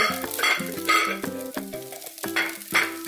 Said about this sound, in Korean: 이렇게 나달나달 고슬고슬하게 잘 볶아지는 거예요